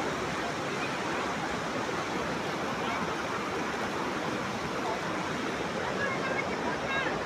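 Steady broadband rush of a stream flowing past a riverbank at a picnic, continuous and fairly loud throughout with no clear voices.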